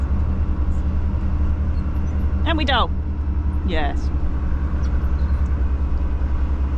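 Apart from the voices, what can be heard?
small lorry driving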